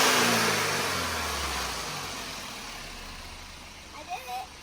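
Audi car engine revving up and then settling, loud and close at first and fading to a lower idle, with brief voices near the end.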